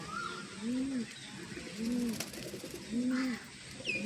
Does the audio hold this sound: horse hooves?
no